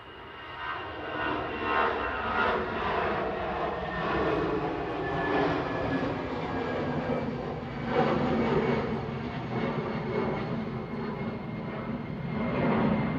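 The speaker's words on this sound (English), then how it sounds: "Eurowings 9341 to Dusseldorf, DABGJ, A319 on the roll" An Airbus A319 jet in Eurowings colours rolls down the runway on its take-off run, a broad steady engine roar building and holding loud from mid-distance for the whole stretch without any talk over it.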